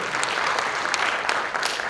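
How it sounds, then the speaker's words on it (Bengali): Applause from a theatre audience after a Bengali play, a continuous dense clatter of many hands with scattered louder individual claps, sustained throughout. "ওনার জন্য একটা জোরে হাততালি হয়ে যায়।"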